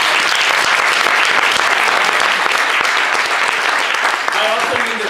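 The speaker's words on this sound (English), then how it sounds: "So Mike deserves a round of applause." A lecture audience breaks into steady, dense applause that fills the room, sustained loudly throughout without pause.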